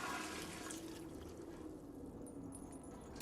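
Water runs steadily into a bucket in the video game Indika, a constant broadband gush with no voices, holding loud and even for a few seconds.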